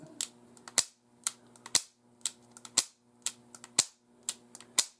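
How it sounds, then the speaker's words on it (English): An empty revolver dry fired again and again, metallic hammer clicks in a steady rhythm of five or six double bursts, close and crisp with no other sound. "we know all of this is empty, so I'm just going to dry fire it"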